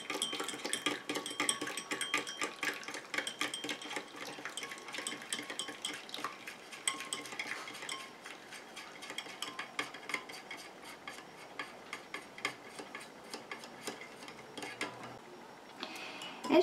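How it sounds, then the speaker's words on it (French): Water phase being stirred into an oil phase to make a homemade body lotion: a quiet, steady run of rapid utensil ticks and clinks against a bowl, continuing evenly with no talking. "Et je mélange comme ça jusqu'à ce que mon émulsion épaississe et refroidisse."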